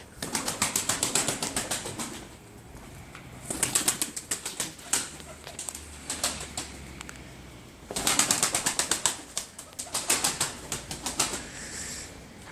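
A pigeon's wings flap in rapid, clattering bursts, several flurries separated by brief pauses, close by and fairly loud.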